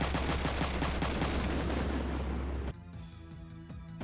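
Machine gun fire in Front Mission 3, a dense rattling barrage with heavy booming low end that cuts off abruptly, leaving quieter game sounds with a few lighter pops.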